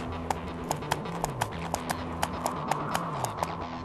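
Horse hooves clip-clop in a steady, even trot during riding in a video game, crisp regular clicks over a low droning game soundtrack.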